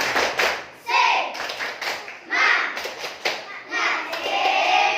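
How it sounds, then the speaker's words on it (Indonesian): A group claps in a quick rhythmic pattern, loud and close, with short bursts broken by brief pauses and a voice mixed in. "Tepuk semangat"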